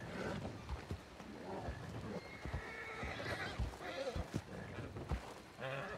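A video game horse whinnies several times, upset, amid hoof clops and busy background noise, with voices faintly present.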